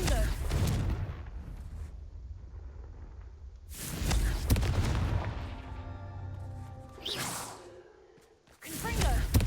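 The Confringo fire spell cast at braziers in Hogwarts Legacy: loud whooshing blasts with booming bursts, several spaced casts, each followed by a fading roar.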